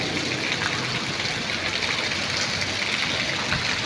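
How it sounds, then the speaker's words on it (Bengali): Heavy rain pouring down outdoors, a dense, steady roar of falling water with no break, loud and close, with no talking over it. "এই দেখেন কি পরিমাণে বৃষ্টি হচ্ছে"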